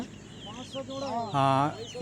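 Silkie chickens, a fancy backyard breed offered for sale, give a few short clucks and a longer, louder tonal cackle near the end, close by with light background noise.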